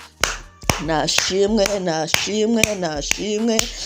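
A church congregation claps in a steady rhythm during prayer, sharp hand claps landing about every half second beneath a prominent chanting voice.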